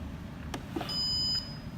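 A One Touch Barista coffee machine with its compartment removed gives a steady, high electronic beep lasting about half a second, close by and moderately loud, preceded by a couple of faint clicks and no talking.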